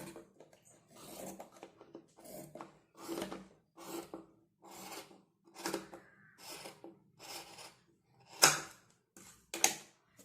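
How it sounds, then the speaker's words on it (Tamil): Scissors snip away excess blouse cloth in a steady series of crisp cuts and rustles, each a short rasping stroke, close and fairly quiet, with two sharper snips near the end. "எக்ஸஸாக இருக்கிற கிளாத்தை வந்துட்டு ஒரு 1/2 இன்ச் டிஸ்டன்ஸ் விட்டு கட் பண்ணி எடுத்துடலாம்"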